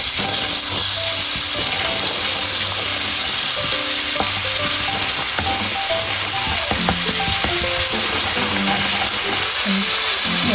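Garlic and garam masala frying in a pot for Bangladeshi beef curry, a loud dense sizzling hiss held throughout with steady scraping and stirring, near and without talk.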